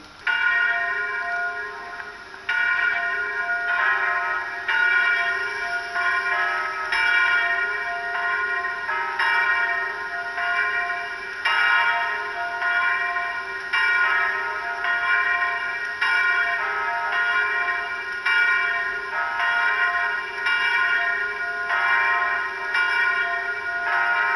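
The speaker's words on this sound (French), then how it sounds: "les curés ont dû lancer les cloches 1 et 2 à nouveau" Church bells at St Vincent de Mâcon, bells 1 and 2, ring continuously and loudly, their overlapping tones sustained and layered for a long stretch with no voices.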